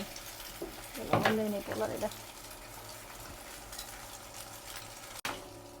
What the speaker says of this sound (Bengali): এখন এই যে আমি পরোটাটা ভেজে নিচ্ছি